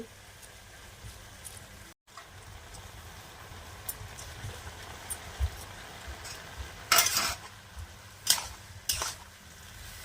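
Mung dal goes into a cooking pan for an ash gourd ghonto, a vegetarian dish made with little oil. A few short rattling, sizzling bursts come near the end over a quiet, low kitchen background.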